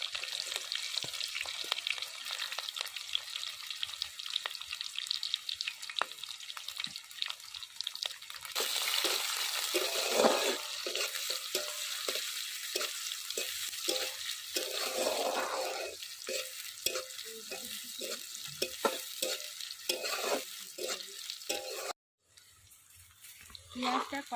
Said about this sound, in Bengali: পেঁয়াজটা কড়াইয়ের উপর একটু ভেজে নিয়েছি, এখন হালকা লাল লাল হয়ে গেছে।